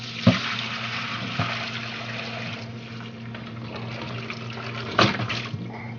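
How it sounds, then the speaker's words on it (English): Chicken broth pours through a strainer into a big bowl, a continuous liquid rush with a couple of sharp clanks and splashes, close and moderately loud. "here I have a big bowl and a strainer, and I'm going to strain off all the broth"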